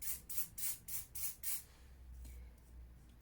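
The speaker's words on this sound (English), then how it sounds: "then you can just spray" Hair spray is sprayed onto a frontal wig during a bald cap install, five short hissing bursts in a quick rhythm, close and soft, then quiet.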